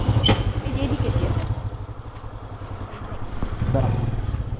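Close, steady idle of a rideshare motorcycle's engine, a low continuous putter with a short rattle near the start, under background street noise and faint voices.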